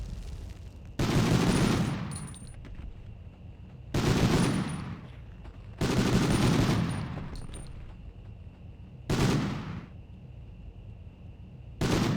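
Machine gun fire in the Medal of Honor PS1 game, coming in four loud, close bursts about three seconds apart, each roaring and then fading before the next.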